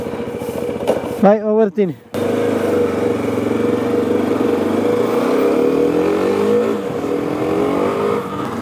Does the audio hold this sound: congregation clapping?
no